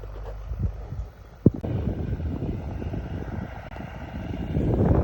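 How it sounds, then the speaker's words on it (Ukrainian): Tractor pulling a Hasia anchor seeder sowing wheat in a muddy field, a steady low engine drone with a single sharp knock near the start, growing slightly louder toward the end as it nears. "І трактор назад буде вже вертатися по, по сліду маркера."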